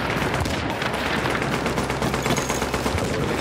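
Dense, continuous automatic gunfire and rapid shots in a video game battle, loud and unbroken, pounding a fortification with overlapping bursts throughout.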